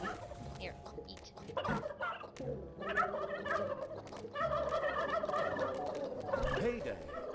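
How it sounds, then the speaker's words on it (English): Turkeys gobbling in the video game Dungeons 3, with loud overlapping bursts of rapid gobbles that recur throughout amid game background sounds. "We have more than enough turkeys."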